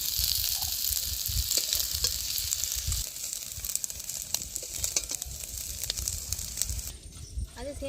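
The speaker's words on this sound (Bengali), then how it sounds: "চিকেন মাংসটা আমি ভেজে নিয়েছি, এবার আমি তুলে নিচ্ছি।" Chicken meat frying in hot oil in a kadai gives a loud, close, continuous sizzle with dense crackling and occasional stirring scrapes throughout.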